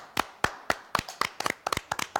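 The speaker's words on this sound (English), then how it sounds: "Why are you clapping for me, guys?" A few people clapping, irregular close hand claps that start sparse and quicken into a light patter over a couple of seconds, with no talking.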